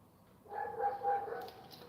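A dog barks at night, a short burst of barking and yelping in the middle of the clip at a moderate distance, with faint background noise around it.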